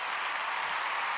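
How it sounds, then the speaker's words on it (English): An audience on a live stream claps together in a dense, even wash of applause, steady and fairly faint from start to finish with no voices over it. "Another clap, please."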